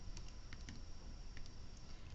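Fingers tap out a short burst of clicks on a computer keyboard, quiet and close, with irregular keystrokes over a low background hum and no talking.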